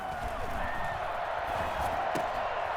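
A football stadium crowd rises and roars as the Cardinals line up for a two-point conversion, a dense, sustained wall of cheering and whooping with an announcer's voice carried over the top.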